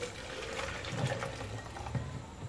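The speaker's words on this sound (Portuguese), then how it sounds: "Agora aqui tem um copo de água" Hot water poured from a glass onto strawberry gelatin powder in a kitchen, a steady close splashing pour with no talking.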